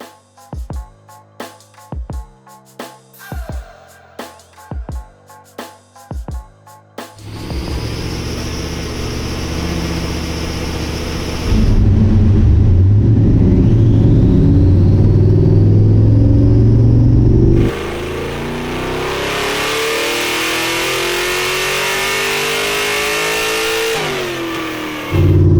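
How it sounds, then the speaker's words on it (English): A budget-built, rear-wheel-drive, LS-swapped Toyota Corolla idles on a dyno with sharp throttle blips, then revs hard and holds a loud, roaring drone through its side-exit exhaust pipes before easing off. "we couldn't resist the opportunity to throw the Corolla on our dyno and hear those side pipes do"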